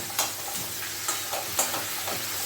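Eggplant pieces dropped into hot oil in a pan, sizzling at moderate volume with a run of scraping stirs and small pops spread across the moment, no talk.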